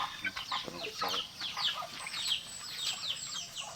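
Native chickens clucking and chattering close by at feeding time, a busy stream of short overlapping clucks and squawks with no talking.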